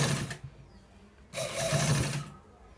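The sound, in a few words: sewing machine stitching a senator front pocket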